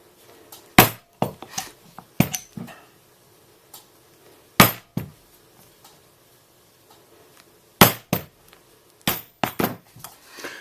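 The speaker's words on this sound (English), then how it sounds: "We'll take our hole punch now, and we'll go ahead and punch our holes" A hole punch striking through leather straps: sharp, close knocks and taps, some single and some in quick pairs, separated by quiet pauses.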